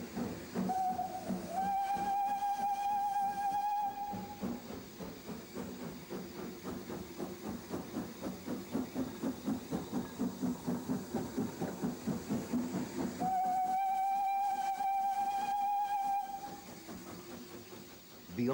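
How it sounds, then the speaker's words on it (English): Preserved steam train near Bolton Street Station heading into a short 80-yard tunnel, with a rhythmic chuffing exhaust throughout and two long steam whistle blasts, one near the start and one near the end. "Leaving Bolton Street Station, the train immediately enters the 80-yard Bolton Street tunnel."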